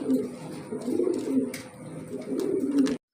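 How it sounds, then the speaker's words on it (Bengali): Big-size Dama pigeons at a fancy pigeon farm coo steadily in low, throaty rolling tones, close by and continuous, with a few faint clicks and background sounds. "দেখতে পাচ্ছেন স্ক্রিনে একজোড়া বিগ সাইজের দামা সিন আছে"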